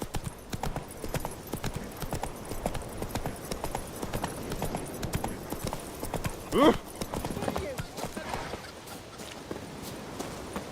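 Geralt's horse Roach galloping in the video game Witcher 3, rapid rhythmic hoofbeats pounding steadily and close for the whole stretch, with a brief louder thud partway through and a voice speaking over the hooves.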